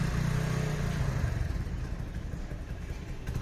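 A petrol engine runs steadily close by, a continuous low rumble with some clatter that holds at an even level throughout.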